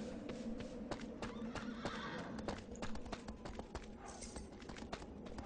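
A horse from Shadow of the Colossus whinnies and clip-clops in a steady run of hoof strikes, loud and close, over a constant ambient game bed with no talk.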